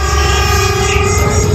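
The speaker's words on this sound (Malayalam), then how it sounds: "റെയിൽവേ ട്രാക്ക് റിപ്പയർ ചെയ്യുന്ന സാധനം കേട്ടോ ഇപ്പൊ പോയത്" A railway track repair vehicle passes close by on the Konkan Railway near Mangalore, giving a loud, steady mechanical drone with a sustained tonal hum throughout the brief moment.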